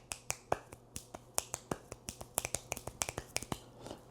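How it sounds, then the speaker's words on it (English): Sharp finger snaps ring out one after another, about twenty crisp clicks alternating between hands in a quick, slightly uneven rhythm, close and clear in a quiet room. "So just snap your fingers, snap your other fingers, clap your hands."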